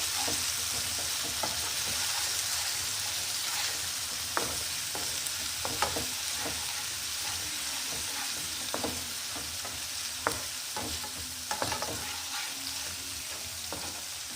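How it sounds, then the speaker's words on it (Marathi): Ginger-garlic paste sizzles steadily in hot oil in a pan for a carrot, potato and pea curry, with scattered scraping and clicking stir strokes over the constant frying hiss and no voices. "बस पुरे होते आणि त्याला छान परतून घ्यायचं।"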